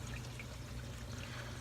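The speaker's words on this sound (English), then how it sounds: "there's the water going into that one." Water pours steadily into the wet-dry filter of a 300-gallon aquarium, a continuous close splashing trickle with low rumbling hum beneath, no voices.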